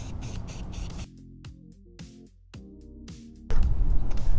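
A spray can hisses onto pieces of sea glass for a DIY concrete planter, with a broad burst at the start and another at the end and tonal background music in between.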